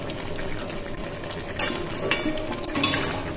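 Cauliflower and potato dalna being stirred in a pan, a steady wet bubbling sizzle with a few soft scraping clinks of the spoon, close and moderately quiet.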